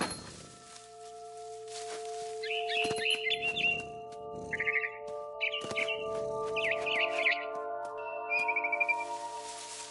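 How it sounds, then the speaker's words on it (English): A barn swallow chirps near its nest outside a window in the video game What Remains of Edith Finch, several short bright twittering bursts over a quiet sustained musical drone. "Then I heard chirping outside my window. It was a barn swallow going back to her nest."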